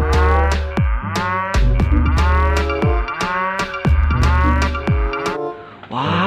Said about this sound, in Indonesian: ini ada sapi perah teman-teman